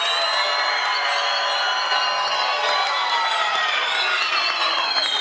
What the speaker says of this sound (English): Madame, arrête d'applaudir.